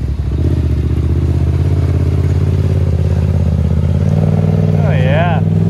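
A 4x4 engine revs hard while the vehicle ploughs through deep mud and water, a loud close droning roar with strong harmonics that swells toward the end, with clattering and scraping underneath.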